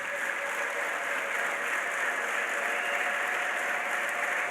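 A church congregation applauds in praise during a sermon, a steady, dense wash of clapping sustained evenly throughout, moderately distant and filling the room with no voices on top.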